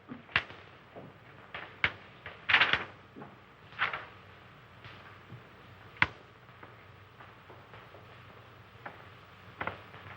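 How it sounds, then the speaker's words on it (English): Footsteps and a knock in an old radio drama: scattered sharp taps and thuds come at irregular intervals over several seconds, moderately close, with no voices. "the music fades out, and you hear footsteps and a knock"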